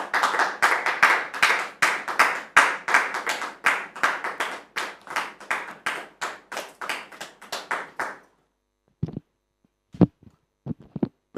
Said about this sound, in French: Merci public de recevoir M. Alban sous vos applaudissements,